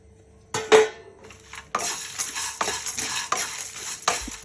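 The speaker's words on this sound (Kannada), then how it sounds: "ಇವಾಗ ಹುರಿದಿರೋಂತಹ ತೊಗರಿಬೇಳೆ ಕಳಪೆ ಬೀಜ ಹಾಕ್ತಾಯಿದ್ದೀನಿ" Roasted toor dal and ridge gourd seeds are tipped into a pan already holding dry chillies, garlic and grated dry coconut. A brief clatter is followed by scraping, rattling stirring against the metal, close up and without speech.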